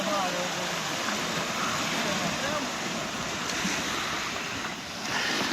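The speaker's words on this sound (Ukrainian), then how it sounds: "хвилі там, що набігають на берег, досить потужні" Sea waves break steadily on the pebbly shore of Boccadasse beach in Genoa, a loud, continuous surf wash with wind noise throughout.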